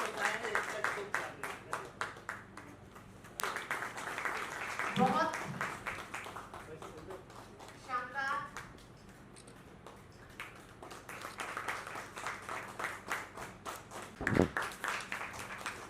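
Audience applause at a Mumbai Press Club PhD function for Ram Kumar, a few scattered bursts of clapping that break out amid a host's ongoing speech, moderately near and fairly light.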